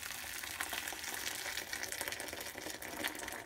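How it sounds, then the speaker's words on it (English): Boiling water poured into a slow cooker holding wheat, a steady soft splashing gush that runs continuously at low level without talk. "and I'm gonna put all the water"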